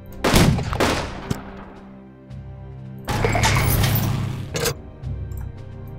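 Gunfire and explosions in the Unity of Command II strategy game as panzers are destroyed: a dense burst of loud shots and blasts early, a lull, then a second sustained barrage with a sharp crack near the end.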